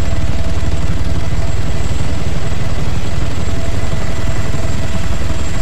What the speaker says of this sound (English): Chopper, whenever it lands, get it.